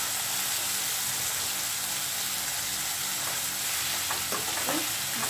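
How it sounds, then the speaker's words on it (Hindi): Spices and red sauce for chili paneer are stirred in a hot pan, with a steady sizzle and spoon scrapes clicking through toward the end, all fairly close with no talking. "मसाले अच्छे से मिक्स हो रहे हैं।"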